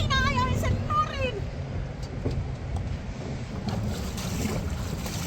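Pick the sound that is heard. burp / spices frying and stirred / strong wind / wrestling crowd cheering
strong wind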